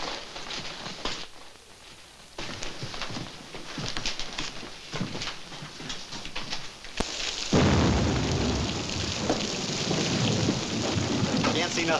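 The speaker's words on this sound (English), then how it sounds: "Can't see nothing in this rain." Heavy rain pours steadily and loudly, swelling into a dense roar partway through, with low rumbles mixed in.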